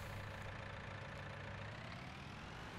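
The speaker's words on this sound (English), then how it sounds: "So we're gonna take this tractor now" A tractor engine drones steadily in Farming Simulator 19, a low, constant rumble with a faint hum over it. It stays at an even, moderate level with no voices over it.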